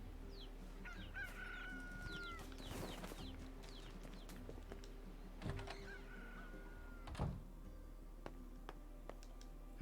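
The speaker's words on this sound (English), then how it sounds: "Oh yeah, we have our own chickens." Chickens in the NieR Replicant game world cluck and crow in short bursts, with a rooster-like call standing out, heard alone over a steady low background hum.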